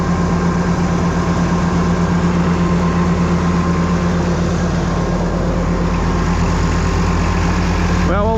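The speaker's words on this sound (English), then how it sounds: "So listen to that beautiful Oliver Waukesha sound." An Oliver tractor with a Waukesha engine idles on a dyno, a loud, steady, even rumble with a constant droning hum that holds unbroken throughout, close up.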